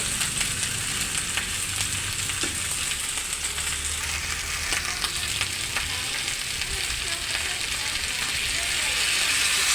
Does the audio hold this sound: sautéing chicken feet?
yes